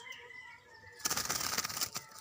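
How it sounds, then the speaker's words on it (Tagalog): A rare endangered pet bird, a Guaiabero known locally as kusi, flaps its wings in a sudden close, loud flurry of rapid beats after a quiet opening with faint calls. "ito po yung endangered na po na ibon. Tapos tawag sa amin ay kusi"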